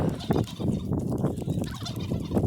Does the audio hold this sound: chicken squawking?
yes